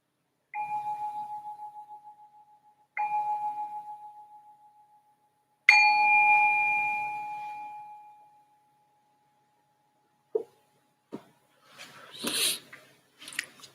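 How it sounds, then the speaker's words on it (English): A meditation bell rings three times, clear sustained tones each fading slowly, the third strike louder and longer, followed by a few faint knocks and rustles in a quiet room. "I'm just going to ring this bell to signal the start of the meditation."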